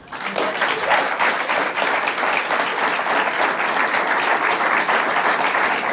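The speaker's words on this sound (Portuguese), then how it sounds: "O vosso aplauso para o treinador do Futebol do Porto, Paulo Fonseca." Loud, sustained clapping from a late-night TV studio audience greeting a football coach, even and dense throughout the six seconds.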